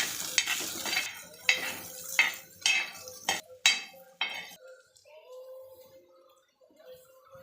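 Bitter gourd being stirred in a pan with roasted coconut, coriander seeds and chana dal, a few scraping stirs and clinks over a soft sizzle, close, then quieter with a voice speaking.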